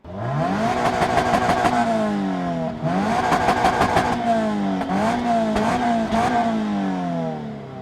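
A 2024 Subaru BRZ tS sports car with dual-exit exhaust revs repeatedly. The engine note climbs and falls in several loud, close blips with no voices over it.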